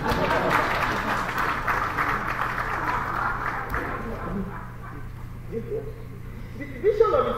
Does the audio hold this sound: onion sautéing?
no